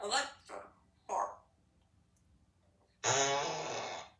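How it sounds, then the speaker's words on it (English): A fart sound effect from an Alexa smart speaker: a single loud, wet, sputtering blast lasting about a second, following a few short vocal bursts and a quiet pause. "Alexa, fart."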